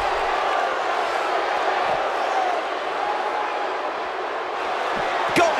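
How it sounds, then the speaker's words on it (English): Arena crowd noise from a WWE 2K18 women's title match plays as a steady, loud roar of cheering through the whole stretch, with a brief sharp spike near the end. "Beth Phoenix has the WWE Universe on its feet"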